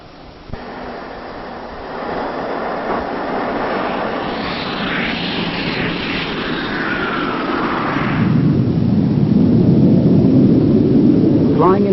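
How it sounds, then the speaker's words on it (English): A Jet Provost jet trainer roars steadily as it flies, a broad continuous engine rush that grows louder and deeper toward the end, with no voices over it. "The new aircraft is the Jet Provost, much more powerful than the Chipmunk"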